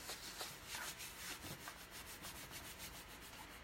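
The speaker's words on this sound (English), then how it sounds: "So all I'm going to do again is just rub it all down." A vinyl decal being rubbed down firmly after the tape is pulled off: a continuous, close dry rubbing and scraping sound with even, repeated strokes, no speech.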